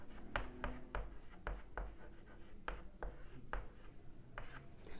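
A pen scratches out Sanskrit word forms in a series of quick, separate strokes with short pauses between them. The writing is close and fairly quiet, with a little faint background noise.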